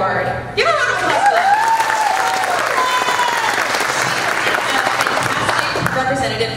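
An audience at a pageant competition applauds a contestant with loud, dense continuous clapping, while a voice speaks over it near the start.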